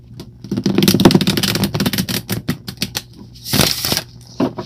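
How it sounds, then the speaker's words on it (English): Tarot cards riffle and snap in quick rustling bursts, with a pause and then another brisk shuffle, close up with no voices. "I like to handle the cards a lot on camera before I do the reading"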